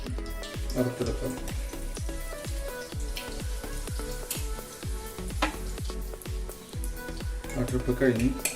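Chicken pieces deep frying in hot oil for chilli chicken give a continuous sizzling hiss, heard under a steady rhythmic beat of background music, with a voice in places.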